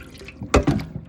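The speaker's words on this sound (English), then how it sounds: "Rinse out the saltfish," Saltfish rinsed under running water in a kitchen sink, with brief splashy drips and a short gush of water, close and fairly loud, no talk.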